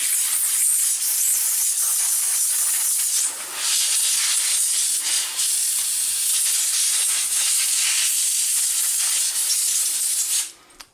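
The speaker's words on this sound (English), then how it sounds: "I want to just spray out all of the hair and the muck" Compressed air or aerosol spray blasting hair and built-up muck out of a desktop computer fan held in the hand, a loud steady hiss running almost the whole time with brief dips before cutting off at the end.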